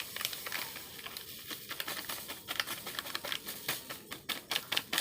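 Semolina being sifted through a sieve for malpua, heard as a close, steady granular patter with light rhythmic tapping and rustling throughout, no voices.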